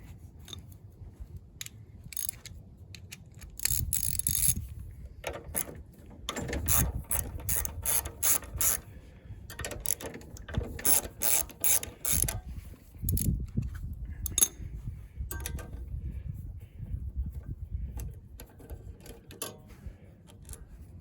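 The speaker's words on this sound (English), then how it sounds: "Those are 3/8 inch, so I get a 3/8 inch socket and simply remove them." A ratchet turns a 3/8 inch socket to remove the carburetor bolts on a Briggs and Stratton Quantum engine, giving close, rapid clicking bursts in repeated strokes with short pauses between them.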